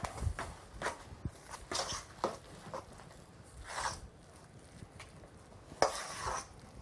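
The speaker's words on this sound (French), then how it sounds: "On rajoute le gruyère râpé et on mélange l'ensemble." Grated gruyère stirred into a salmon and chive canapé batter in a bowl, giving a run of soft scraping, clinking strokes at an uneven rhythm, close and fairly quiet.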